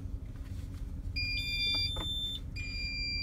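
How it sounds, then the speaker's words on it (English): An ignition interlock device in a vehicle beeping for a rolling retest, a few sharp high-pitched electronic beeps in short bursts over a low engine and road hum. "The device will beep loudly"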